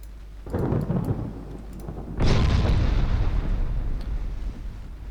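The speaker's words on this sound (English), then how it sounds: "Torpedo detonation aboard the enemy ship." A torpedo detonates aboard an enemy ship in the naval game Ultimate Admiral Dreadnoughts: a rumbling blast at first, then a second heavier boom that rolls on with a long, thunder-like decay.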